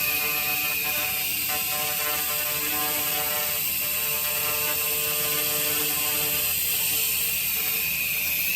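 A laser cleaner removing rust gives a steady, dense mechanical whine with high hissing tones, continuous and fairly loud throughout, no voices.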